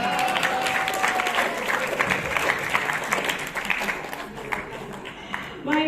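An audience at a political literacy discussion claps in sustained, dense applause for several seconds, fading slightly near the end, with voices mixed in.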